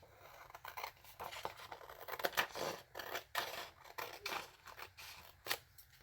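Scissors snip through a wallpaper-covered junk journal cover in a quiet craft setting, giving a run of close, irregular crisp cuts and scratchy paper rasps with short pauses between.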